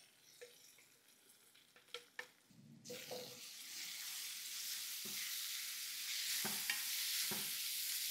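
Ground dal with turmeric and chilli powder drops into a hot pan after a few light knocks, then sizzles in a steady, fairly soft hiss, with occasional stirring scrapes close by.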